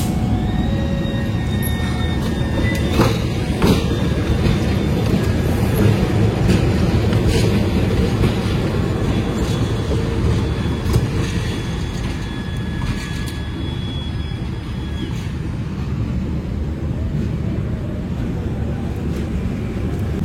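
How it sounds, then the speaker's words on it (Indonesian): A CC06 diesel locomotive, number 1340, rolls into the Surabaya Gubeng depot in Indonesia. It gives a steady, loud low rumble with faint high tonal whine throughout, continuous and fairly close, with no talk. "itu dia lokomotif sudah masuk ke Balai Asa Surabaya Gubeng"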